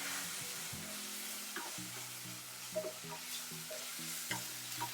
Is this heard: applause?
no